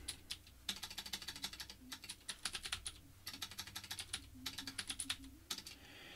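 Rapid bursts of computer keyboard typing sound close and crisp, with short pauses between runs of keystrokes.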